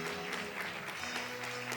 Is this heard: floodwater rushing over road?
no